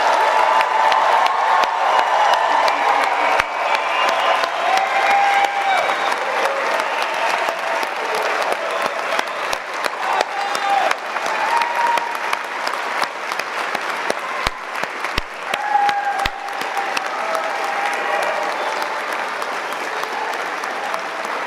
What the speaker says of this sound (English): I invite our faculty, family, and friends to join me with a massive round of applause congratulating our graduates of 2024